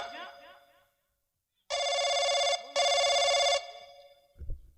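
A phone rings loudly in two long electronic bursts separated by a short pause, following brief talk and preceding a low thump.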